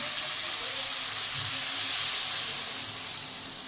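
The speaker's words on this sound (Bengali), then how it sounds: "আমি এই গরম জলটা এর মধ্যে ঢেলে দিচ্ছি" Hot water poured into frying curry with drumsticks (sajna data) sets off a steady, close sizzle and hiss with steam that swells briefly, then eases slightly.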